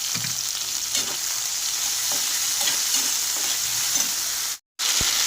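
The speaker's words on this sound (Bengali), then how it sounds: "এগুলো একটু নেড়ে চেড়ে আমি দিয়ে দেবো এক চামচ আদা রসুন বাটা" A spoonful of ginger garlic paste sizzles in a pan, a constant hiss punctuated by a few soft scraping stirs, close-up, briefly cutting out before a final clink.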